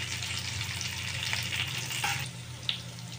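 Fish pieces fry golden in hot oil as curry leaves are added, producing a continuous close frying hiss with a few brief pops and crackles.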